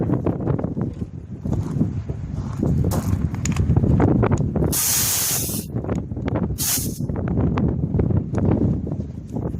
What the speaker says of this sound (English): then pull the trigger for air, and then adjust the amount of sand by this valve